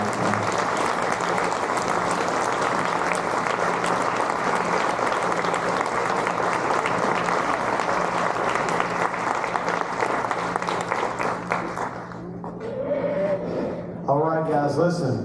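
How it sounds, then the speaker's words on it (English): Sustained applause from a dinner audience fills most of the stretch, steady and fairly loud, then cuts off as a voice resumes speaking. "Give another round of applause for Danny there."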